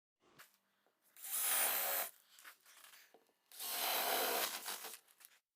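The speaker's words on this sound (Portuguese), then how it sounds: "vamos furar o meio e aí podemos colocar a nossa placa" Power drill boring holes through a wooden door to fit the latch plate, two long sustained bursts of drilling close up with quieter handling noise in between.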